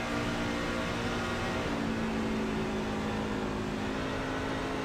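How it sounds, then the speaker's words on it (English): A race truck engine drones steadily at partial throttle on the Las Vegas Motor Speedway oval, a dense, continuous roar with slight pitch shifts and no talk. "Listen to his throttle input."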